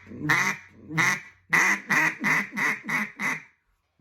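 A duck call blown in a quacking cadence: two spaced quacks followed by a quicker run of six descending quacks, loud and close with no talking.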